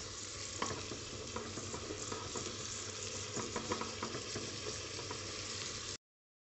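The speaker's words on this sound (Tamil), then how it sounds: "காயெல்லாம் கொஞ்சம் நல்லா சாஃப்டாக வதங்குற வரைக்கும் வதக்கிட்டு வதக்கணும்" Cabbage and beans sautéing in a pan, with a continuous soft sizzle and repeated stirring scrapes at an even pace. It cuts off abruptly near the end, and no one speaks.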